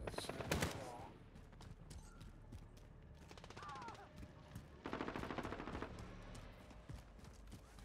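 Video game gunfire from Call of Duty: a close, loud burst near the start, then bursts of rapid automatic fire in the middle and near the end, with game voices and people talking.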